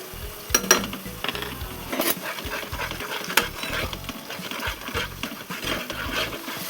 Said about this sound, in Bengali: মশলাটা ভালো করে কষিয়ে নেবো। যতক্ষণ তেল ছাড়ছে ততক্ষণ ভালো করে মশলাটাকে আমি কষিয়ে নেবো।